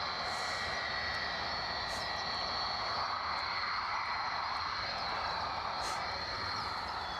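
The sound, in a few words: Boeing 757 jet airliner engine sound at airport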